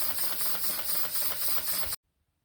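A homemade steam generator built for testing live steam model locomotives hisses loudly and steadily with broad, rushing noise, then cuts off abruptly into near silence.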